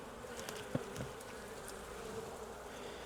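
Honey bees hum around a hive in a steady, faint, continuous drone, with a few soft knocks near the start and no voices.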